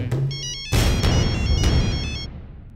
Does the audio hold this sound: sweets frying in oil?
no